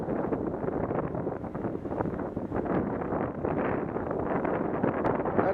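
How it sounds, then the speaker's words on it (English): Wind gusting across a microphone on a four-person ski chair lift at Seven Springs, a steady loud rumbling roar with no pauses throughout. "the winds are just picking up now up here"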